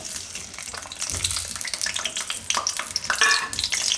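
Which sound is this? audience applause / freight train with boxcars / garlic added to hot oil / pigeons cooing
garlic added to hot oil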